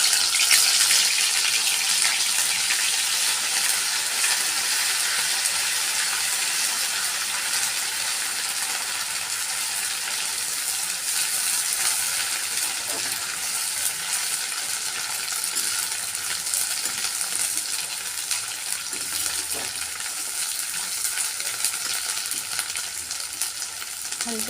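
Onion paste fries in oil with a bay leaf, giving a continuous close sizzle that stays alone without talk, with occasional faint clinks from stirring.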